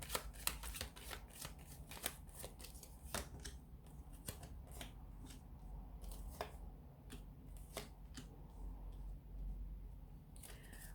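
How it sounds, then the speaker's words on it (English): Tarot cards shuffled by hand during a reading, a busy run of close, crisp riffling slaps and flicks that keeps going throughout with no pauses and no talk. "we'll give the cards a shuffle here"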